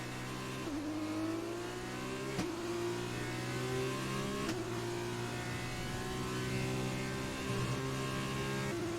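A race car engine in the F1 2020 video game, during an F2 season race, revs loudly and continuously, climbing and shifting through the gears with sharp steps in pitch and no talking over it.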